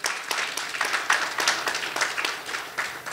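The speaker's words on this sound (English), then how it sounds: "An applause for the mock trial team, guys." Audience applause for a college mock trial team at a mock presidential primary debate, a steady crowd clapping sustained throughout at moderate volume with no voices over it.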